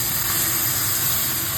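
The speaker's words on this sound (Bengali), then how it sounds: "এবার হচ্ছে এটাকে ভালো করে ভেজে নেবো।" Potatoes and soybean chunks frying in a pan give a steady, close sizzling hiss with a bright high-end spray, continuous and unbroken, with no voices over it.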